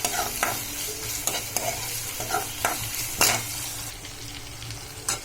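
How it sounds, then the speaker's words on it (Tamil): Chopped onions fry in oil in a pan for brinjal thokku, giving a constant sizzle broken by a few sharp clinks and scrapes of stirring. "ஒரே ஒரு சைஸ் வெங்காயத்தை கட் பண்ணி நல்லா போட்டு வதக்கணும். நல்லா ஃப்ரை ஆகணும்."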